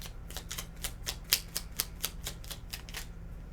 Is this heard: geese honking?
no